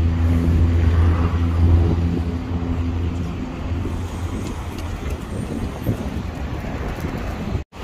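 Traffic on a street in the Zona Sur of La Paz, Bolivia: a car engine idles and rumbles nearby, then the sound eases into a steady low road noise as vehicles move past.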